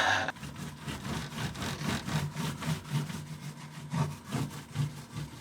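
Hand sanding on an old catamaran hull during a refit, a rough, rhythmic scraping of abrasive strokes repeating at a steady pace, close and fairly quiet, with no talking.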